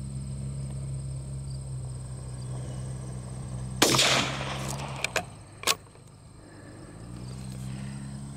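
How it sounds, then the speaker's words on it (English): A single sharp crack from a CZ 457 rifle in .22 Winchester Magnum Rimfire, close and loud over a steady outdoor hum, followed by a few small clicks and metallic handling noises. "Should be the last shot."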